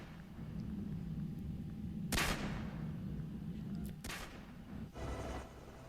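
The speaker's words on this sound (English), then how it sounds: "Soap grabs a pistol and shoots everybody who needs shot." Gunfire from the video game Call of Duty 4, with two sharp pistol shots heard several seconds apart over a steady low rumble of battle ambience.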